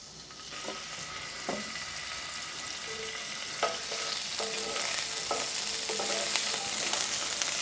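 Garlic sizzling in hot oil as it is stirred around a pan, a constant hiss with scattered utensil taps and small pops, close and steady, and no voices.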